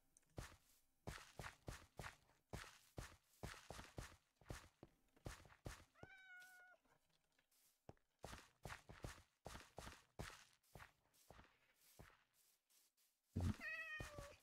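Cats meowing in a modded Minecraft world, short game meows repeating among rapid footstep-like taps and clicks, with a louder burst near the end.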